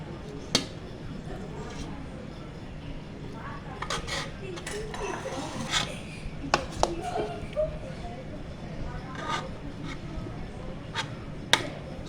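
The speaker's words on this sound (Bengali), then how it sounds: "এই যে আমাদের বিরিয়ানি রান্না হয়ে গেছে, আমরা বাড়াই স্টার্ট করলাম" Cooked biryani being served onto plates, with scattered clinks and taps of spoons and utensils against dishes, sharp scraping knocks rising over a low murmur of people talking.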